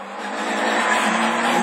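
Rallycross cars, including a Honda, race past at a 2012 French championship Division 4 round, giving a loud, sustained engine roar that builds steadily, with tire squeal layered through it and no voices.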